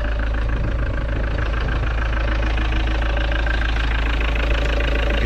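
A car engine idles steadily just after new fuel injectors were fitted at home, a loud, even low rumble with a constant hum running unbroken throughout and no voices.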